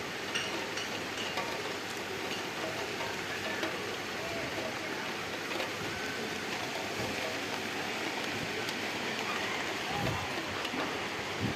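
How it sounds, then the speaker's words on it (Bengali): Steady rain falls on a rooftop garden of potted vegetable plants, a dense, even hiss of drops that continues throughout with no talk. "বৃষ্টি পড়ে ছাদটা সব ভিজে গেছে।"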